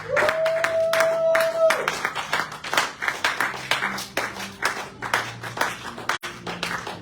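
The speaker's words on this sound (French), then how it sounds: "Est-ce que nous pouvons acclamer le Seigneur?" A church congregation claps to acclaim the Lord during a prayer and deliverance service, with steady overlapping hand claps running throughout. A voice sings or calls a sustained note at the start, and voices continue beneath the clapping.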